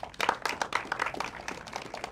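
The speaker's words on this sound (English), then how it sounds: "A round of applause." A scattered round of applause from a modest audience at the end of a theatre preshow, dense quick clapping heard at moderate volume without voices.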